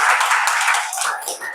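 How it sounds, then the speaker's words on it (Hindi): An audience at a talk on calorie management breaks into a burst of clapping, a dense patter of many hands that fades slightly toward the end. "जोरदार ताली बजाइए आप अपने लिए"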